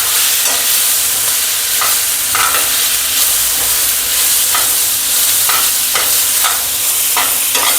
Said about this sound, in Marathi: आता मसाला भाजून झालेला आहे